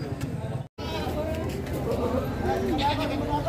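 Goats bleat repeatedly at a busy livestock market in Padre Garcia, Batangas, with rising calls scattered over constant crowd chatter and nearby talk.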